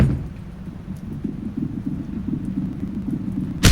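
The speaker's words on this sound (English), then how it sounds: "Even with the pounding water outside, the lightning" Heavy rain pours down outside with a deep rolling rumble of thunder beneath, forming a dense continuous wash that swells louder near the end.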